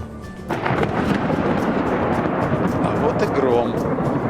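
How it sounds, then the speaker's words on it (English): A loud thunderclap rolls in abruptly and rumbles on as sustained storm thunder with rain, heard during a tennis match in Madrid, with some voices beneath. "Daniela Hantuchova was scared of thunder."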